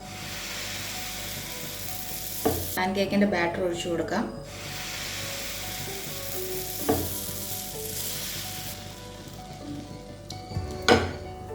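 Oat and banana pancake batter sizzles steadily in a buttered pan, a constant hiss broken by a few clinks and scrapes of a utensil against the cookware.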